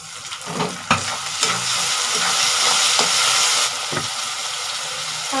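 Tomatoes frying in a pan for Bengali-style cabbage, loud continuous sizzling with a few sharp stirring scrapes and knocks of a spoon against the pan.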